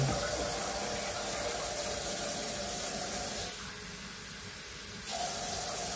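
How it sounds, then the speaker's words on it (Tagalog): Water runs steadily into a cooking pot in a home kitchen, a continuous close hiss that softens briefly toward the end. "Lagyan natin siya ng tubig."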